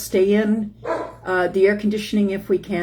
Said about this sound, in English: That's my dog barking at the door.